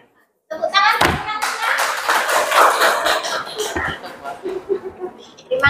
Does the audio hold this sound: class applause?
yes